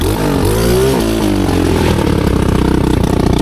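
A cheap 250cc five-speed shifter engine on a go kart, loud and close, revving up and down, then settling into a rough, pulsing idle.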